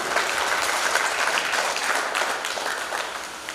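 A crowd of devotees at a Himachal religious gathering claps steadily and loudly in sustained applause, a dense even patter that holds for several seconds before easing slightly toward the end, with no talking over it.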